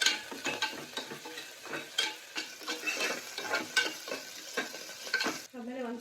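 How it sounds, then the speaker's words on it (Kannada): Chopped onion and fenugreek fry in a pan for mutton biryani, a soft sizzle broken by repeated scraping strokes of a spoon in an uneven rhythm. "ಇವಾಗ ಒಂದು ಅರ್ಧ ಈರುಳ್ಳಿ ಇಟ್ಕೊಂಡಿದ್ದಲ್ಲ ಈರುಳ್ಳಿ ಹಾಕೊಳ್ತೀನಿ"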